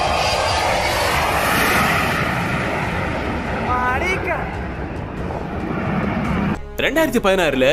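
A Boeing 727 cargo plane roars during takeoff, a loud, dense engine rumble that holds steady before cutting to a short burst of speech.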